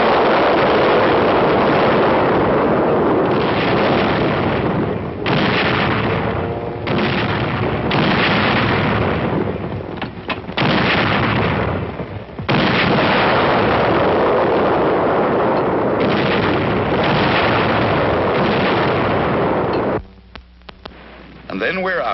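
Korean War artillery fire and explosions make a dense, continuous thunder of booming blasts and rumbling bursts, heavy and loud on an old film soundtrack, with a brief lull near the end.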